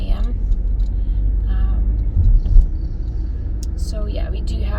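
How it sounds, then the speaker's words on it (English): City street traffic near midday, a low steady rumble of passing cars and heavier vehicles with a louder swell midway, heard close under a person speaking. "we do have some traffic and some construction work going on"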